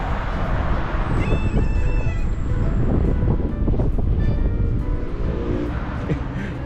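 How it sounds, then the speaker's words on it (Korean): Several cats meow repeatedly along the Istanbul waterfront, short rising cries over steady wind noise and a background hum of the harbour. "고양이들이 따라오네."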